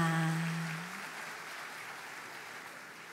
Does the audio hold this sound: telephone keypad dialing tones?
no